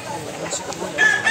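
Rooster crowing and hens clucking among fowl kept a year, with someone talking over the birds in a short, busy stretch.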